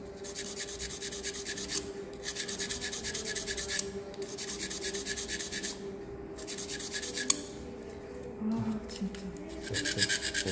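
Sandpaper rubs a Bandai MG 1/100 Gelgoog 2.0 plastic model kit part in rhythmic rasping bursts, several repeated strokes in batches with short pauses, close and steady under a faint background hum and occasional quiet talk.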